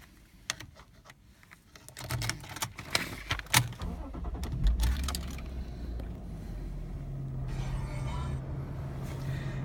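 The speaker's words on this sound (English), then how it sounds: "It starts on the button" A Lexus IS200 SE is started by push button: clicks and a brief crank lead into the engine catching, then a steady idle with a low hum continues close by.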